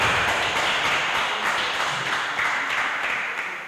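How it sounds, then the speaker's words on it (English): An audience at a junior news anchoring semi-final gives a round of applause, with dense, continuous clapping from many hands that holds steady and then tapers off slightly. "Let's give a round of applause again."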